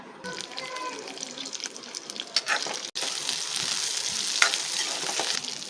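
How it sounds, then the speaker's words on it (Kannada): Onions frying in about two spoons of oil in a pan for a mutton biryani hiss and sizzle steadily up close, with stirring scrapes and a brief cutoff partway through. "ಎರಡು ಸ್ಪೂನ್ ಆಗುವಷ್ಟು ಎಣ್ಣೆ ಹಾಕ್ಕೊಳ್ತಾ ಇದ್ದೀನಿ ಬಾಣಲಿಗೆ ಮೊದಲಿಗೆ ಮೊದಲಿಗೆ ಈರುಳ್ಳಿ ಹಾಕ್ಕೊಳ್ತಾ ಇದ್ದೀನಿ"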